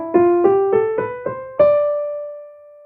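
A keyboard plays an ascending scale on the white keys starting at D. There are six clear, evenly paced notes, the last held and ringing out alone.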